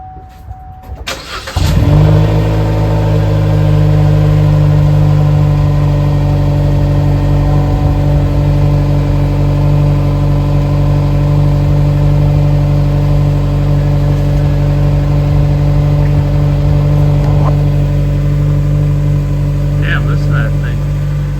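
A 2016 Chevrolet Cruze fitted with a new exhaust tip cranks and fires up near the two-second mark, then settles into a steady, even idle that runs uninterrupted for roughly twenty seconds, close and loud, with no talking.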